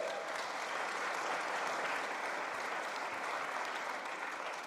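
Audience at a Calgary mayoral debate applauding and cheering, a dense steady wash of clapping that holds loud and even throughout before easing slightly at the end.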